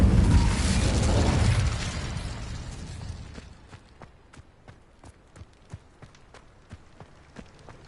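The Incendio fire spell in Hogwarts Legacy erupts as a loud whooshing fiery burst lasting a few seconds, then fades into a series of light, evenly spaced footstep-like taps.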